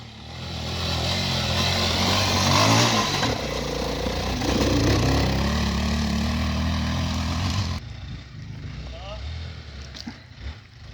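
A motorcycle engine revs loudly and steadily at a waterfall outing with a motorcycle club, the roar holding for several seconds before cutting off abruptly, leaving quieter background noise and brief voices.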